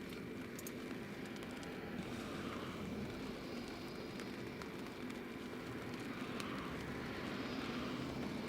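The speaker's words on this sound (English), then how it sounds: "this Eastern Airways is just going to get straight up into the air" Eastern Airways airliner departing Newcastle International Airport, heard as a steady, continuous engine roar at a distance, holding level and unbroken throughout with no voices.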